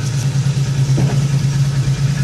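Volkswagen LT28 van with a 2.4 litre petrol engine ticking over at idle after sitting unstarted for days, a steady low even hum with a constant throb, close and loud, without speech.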